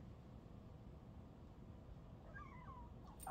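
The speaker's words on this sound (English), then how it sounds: "Okay, you meowed on command." A single short meow rises faintly over a steady low hiss, close but quiet, near the end of an otherwise still moment.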